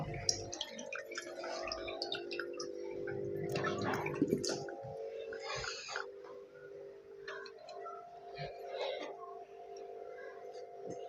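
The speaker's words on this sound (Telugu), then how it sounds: "ఇక్కడ నుంచి ఎయిర్ బబుల్ అయితే వస్తున్నాయి కదా, ఇక్కడ నుంచి అయితే వాటర్ మళ్ళీ కిందికి అయితే కడుతుంటాయి" Quiet bubbling and trickling water from an Oscar fish tank's aquarium filter, with air bubbles rising and water falling back down, heard as a faint steady flow with a few small knocks and clicks early on.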